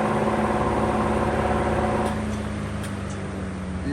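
A 1948 Emerson Electric 30-inch pedestal fan roaring at high speed with a steady loud motor hum and whoosh, which drops in pitch and level as it is switched off partway through.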